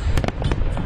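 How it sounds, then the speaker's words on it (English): Fireworks pop and crackle in a rapid cluster of sharp bursts, close and loud, over a dense rumbling background during a brief moment of a celebration show. "In Chicago, the fireworks show has been designed to make social distancing easier"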